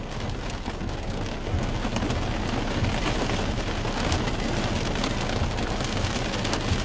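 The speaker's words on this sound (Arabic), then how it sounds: "امطار الخير مستمرة حاليا على صاع شرق العيد." Heavy rain pours steadily and loudly in Sa'a east of Umm Ghafa, Al Ain, UAE, a dense continuous hiss of drops on surfaces with no talking.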